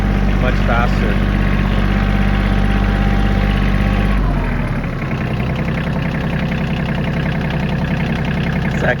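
A Kioti CK27 compact tractor's diesel engine running loud and close while driving, a steady low drone that dips and shifts after a gear change partway through, then settles into a rougher rumble.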